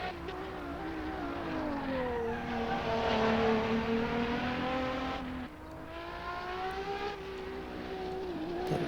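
Ferrari supercar engine in the Assetto Corsa racing game, a loud continuous roar that climbs and falls through the gears with a sharp dip mid-run before building again, close and alone.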